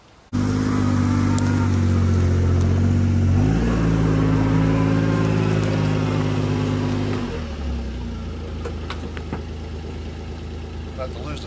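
Vehicle engine driving steadily and loud up close, hauling blocks around a log bridge foundation site; the engine note shifts partway through and settles into a lower, quieter hum.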